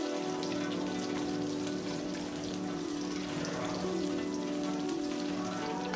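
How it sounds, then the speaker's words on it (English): Ginger and garlic sizzle in hot oil left from frying chicken, a steady crackling hiss close up that runs the whole time without a break, with no voices. "Then add the garlic and continue sauteing for 1 minute."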